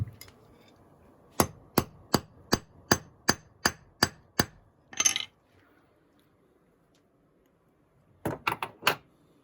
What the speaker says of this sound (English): we'll do a smash test off of the third coating here